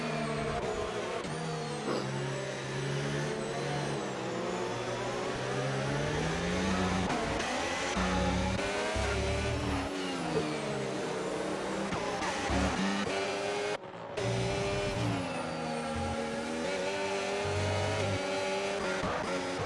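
F1 cars in a racing video game scream past with high, rising and falling engine whines, tires squealing as they corner, continuous and loud with no talk.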